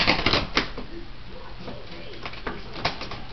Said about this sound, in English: Go this way, you stupid bird.